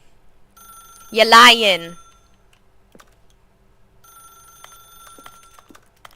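A ringing telephone in the video game The Stanley Parable gives faint, steady electronic tones that come and go, with a voice briefly speaking over it.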